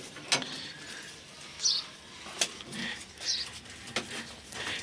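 Pigeons in a loft, including Jiriya and Kaldama birds paired with mates, give short soft chirps and calls spaced every second or so, faint against a quiet background with no talk.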